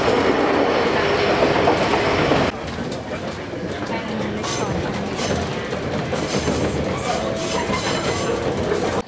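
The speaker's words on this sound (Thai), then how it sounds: "เดี๋ยวเราจะข้ามฝั่งไปขึ้นรถไฟนะคะ" A passenger train in Ishikawa, Japan, runs along the rails with a loud, steady rumble and rhythmic clickety-clack, heard from inside with muffled voices talking beneath it.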